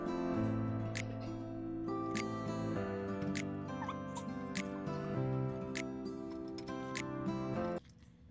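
Freshly canned salsa verde jars cool on a towel as their lids pop while sealing, several sharp isolated clicks spaced a second or so apart over a sustained background tone.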